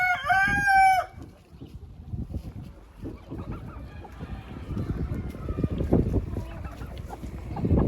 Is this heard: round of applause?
no